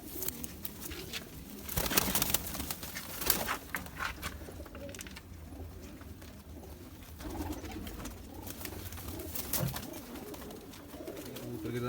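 Zeera pigeons coo in repeated soft, low murmuring calls at close range, with occasional flutters and shuffles and no talking.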